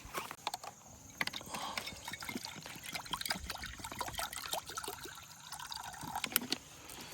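Tap water runs and trickles into a container while feeding bees, with clicky mechanical handling noises and scattered clatter mixed in throughout.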